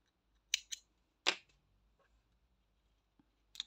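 Scissors snip through yellow yarn during crochet work, making a few sharp, close cutting clicks separated by quiet pauses.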